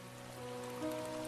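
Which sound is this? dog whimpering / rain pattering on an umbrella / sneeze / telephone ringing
rain pattering on an umbrella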